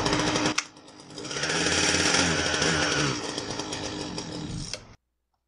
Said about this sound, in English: it just bogs and it won't rev up